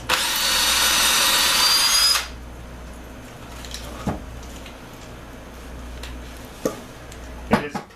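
A Bosch cordless battery drill bores a hole, whining loudly and steadily for about two seconds before stopping, followed by a few scattered knocks and clicks.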